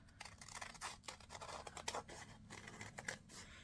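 Scissors snip through stacked paper to cut out flower petals for a folded paper peony, giving a quick run of crisp, close cutting and scraping sounds with no talk.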